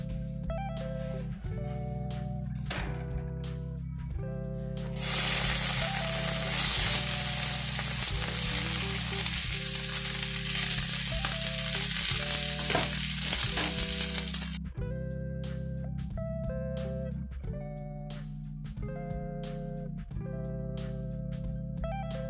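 Vegetables fry in a pan with steady sizzling, joined midway by a louder burst of hissing for about ten seconds, over a repeating clinking, whirring background.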